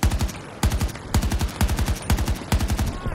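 Bursts of automatic gunfire from a rifle fired prone in Battlefield 2042, about six rapid volleys of close, loud shots separated by brief pauses.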